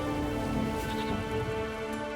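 Rain falling in the video game Witcher 3, a steady even patter over a low humming background with no voices.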